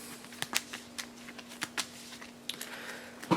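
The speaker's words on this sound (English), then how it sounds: "so we're just going to shuffle his deck up apart from that one" A deck of board game cards for Marvel United: X-Men is shuffled by hand close up, giving soft, irregular riffling and tapping bursts over a quiet background.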